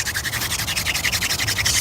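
Hand drill friction fire in a forest, a wooden spindle spun between the palms, giving a fast, steady rhythmic rubbing and scraping that repeats about eight times a second, close and fairly loud.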